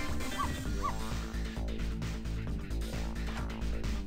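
In the video game Ghost Trick: Phantom Detective, a dog gives a few short, sharp yips and barks over the game's background music.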